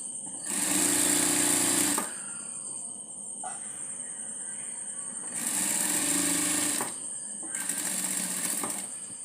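A sewing machine stitches a nightie neck piece in three bursts of fast, whirring, buzzing runs, the first and second longest, separated by quieter pauses with faint handling sounds.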